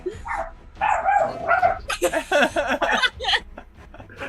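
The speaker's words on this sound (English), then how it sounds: "Dogs bark in the background." Guard dogs bark and yip in the background, a run of sharp, fairly close barks across several seconds with a brief chuckle or whimper-like sound among them.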